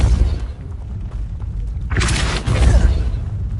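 In the Hogwarts Legacy video game, the Depulso spell is cast with a deep booming blast and a bright crackling burst, heard over a rumbling low game soundscape.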